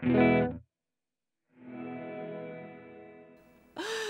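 A guitar chord strummed through a Strymon Cloudburst reverb pedal with long pre-delay cuts off into silence, then a long reverberant wash swells in after a pause and slowly fades.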